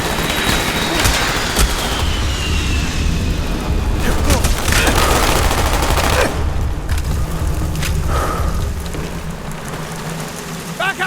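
Gunfire and booming blasts from the video game Call of Duty Black Ops, loud and continuous, with dense bursts and impacts layered under shouted voices.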